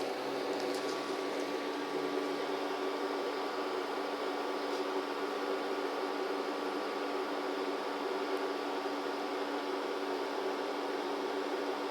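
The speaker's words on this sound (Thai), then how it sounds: "อ่าก็จะได้ยินเสียงคอมเพรสเซอร์ทำงานแล้วนะครับ" A PARAGO DC 24V air conditioner, compared between the PG650 Gen2 and PD700 Gen3 models, runs in air-conditioning mode with its compressor on, giving a steady, even broadband hum and hiss with a faint tonal whine, alone and unchanging throughout.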